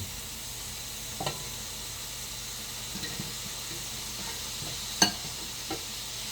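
Food fries in butter in a cast iron pan with a steady, soft, even hiss throughout, broken by a few faint clinks and scrapes of stirring.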